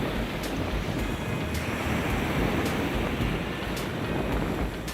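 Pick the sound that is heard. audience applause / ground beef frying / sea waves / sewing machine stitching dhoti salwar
sea waves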